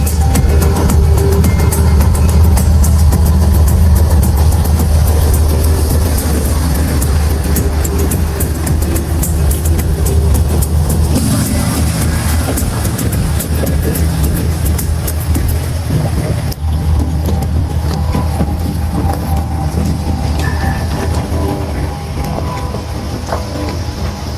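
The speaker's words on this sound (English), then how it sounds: "The WKA parts are being towed up the mountain at Wind Park Neuenrade" Heavy oversize trucks haul wind turbine parts up a steep mountain road at Wind Park Neuenrade, a loud, continuous diesel rumble and grinding roar that stays steady throughout with no voices.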